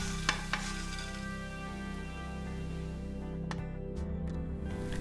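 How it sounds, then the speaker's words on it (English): Tofu stir-frying in oil in a wok gives a steady, quiet sizzle, broken by a few sharp utensil clicks near the start and again toward the end. "Start from tofu, fry it until golden brown and remove it from the wok once done."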